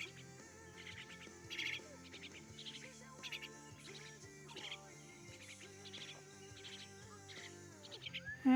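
Myna birds call close by, repeated bright chirps and varied whistling notes from several birds overlapping in a lively, fairly near chorus.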